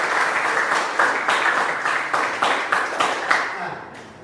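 A classroom crowd claps steadily with rhythmic, unison beats, the applause fading out toward the end.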